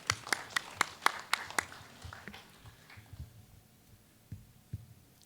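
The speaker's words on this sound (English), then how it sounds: "give yourselves a round of applause" A burst of about eight crisp, evenly spaced claps from a classroom audience, fairly faint and quickly fading into quiet room noise with a few soft knocks.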